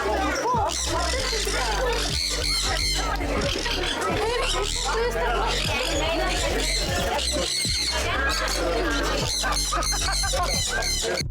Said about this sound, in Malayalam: ഇനി നമ്മൾ പോകുന്നത് കിളികൾക്ക് തീറ്റ കൊടുക്കാനാണ് കേട്ടോ